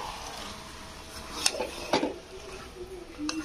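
Marinated chicken with yogurt being stirred in a pot over a moderate flame: a few distinct metal spoon knocks and scrapes against the pot over a quiet, faint background.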